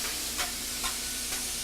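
Blackened fish with lemon squeezed over it sizzles steadily on a grill, a continuous close hiss of frying with a few soft scraping stirs, no voices.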